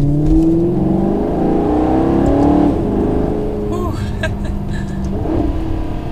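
A Maserati GranTurismo Sport engine revs from inside the car, rising and falling through a strong whirring growl with a brief gear-change dip, loud and close.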